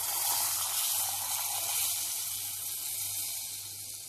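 Hot spiced butter sizzling as it is poured onto Gümüşhane-style kesme soup, a close, steady hiss that fades slightly toward the end.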